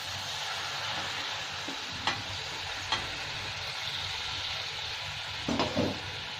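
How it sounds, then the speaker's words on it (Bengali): Hot water poured into frying masala for a soyabean kofta curry, a steady loud sizzle with a few spoon clicks and scraping stirs against the pan. "মশলা আমার কষা হয়ে গেছে, এবার আমি গরম জলটা দিয়ে দিলাম"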